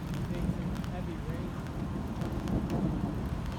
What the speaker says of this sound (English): Wow, the thunder's just constant.